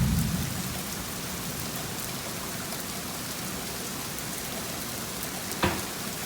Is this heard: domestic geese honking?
no